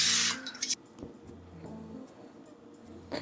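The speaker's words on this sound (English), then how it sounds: "I have my pan right here, cooking spray." Cooking spray hisses onto a baking pan in a short, loud burst lasting about half a second, followed by quieter kitchen handling sounds.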